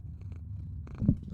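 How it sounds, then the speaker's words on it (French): A cat purrs close up, a soft low rumbling vibration in steady pulses, fairly quiet, ending with a brief louder rustle or bump. "il ronronne."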